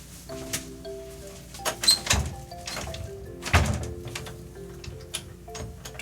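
Repeated knocks and thuds of a stuck door being pushed and rattled in an empty university building, irregular bangs spread across the moment with quieter scrapes between them and no voices.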